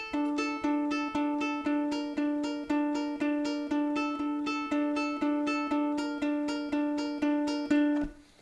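Plucked ukulele strings pick a steady, repeating pattern of bright notes in an even rhythm, played close and alone, ending with a final ringing chord.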